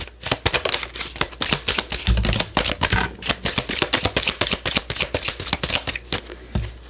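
A deck of oracle cards is riffled and shuffled close up, a rapid run of crisp papery flutters and snaps in quick rhythmic bursts, loud and alone without any talking.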